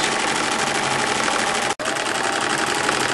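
A sewing machine runs steadily, stitching a seam in stretchy knit T-shirt fabric at a slow pace with a small stitch length, its dense whirring continuous and close apart from one brief pause.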